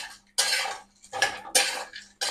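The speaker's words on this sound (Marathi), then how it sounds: "हे बघा असे अशी भाजून घ्यायची विलायची" Cardamom pods roasting in a pan for homemade Maharashtrian spice masala, with a few short bursts of scraping and metal-on-pan stirring separated by brief pauses, close and fairly loud.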